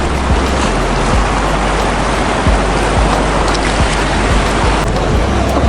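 The flooded river in Budapest rushes past with high water, a loud, continuous roar of churning water and lapping waves that never lets up.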